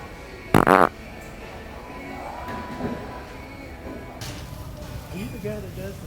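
Fart sound in a Walmart store, one loud, short, buzzing blast near the start, followed by ambient store noise and faint voices in the background.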